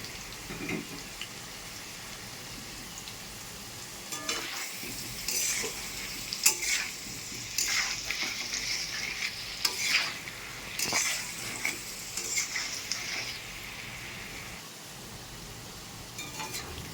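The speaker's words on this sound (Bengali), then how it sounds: "আলুগুলো পাঁচ মিনিটের জন্য ঢেকে দেবো তাহলে তাড়াতাড়ি ভাজা হয়ে যাবে" Potatoes fry in oil for a potato and prawn curry, a steady close sizzle broken by scraping stirs and pan knocks, with no talking.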